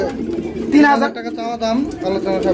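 Lahori, Archangel and racer pigeons coo in low, throaty bursts close by, overlapping with someone talking throughout.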